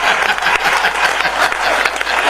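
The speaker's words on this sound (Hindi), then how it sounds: "ताली ऊपर हाथ उठा के ताली बजाई जाती है।" Loud, dense clapping from an audience at a Hindi poetry recital in a pandal, a continuous close burst of many hands with no pause.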